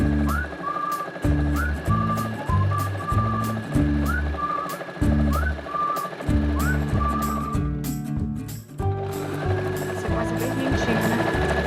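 A sewing machine runs close by in repeated bursts, reinforcing the seams of a fabric toiletry bag. Its rapid mechanical stitching stops and starts several times, with a recurring high squeak and some background noise.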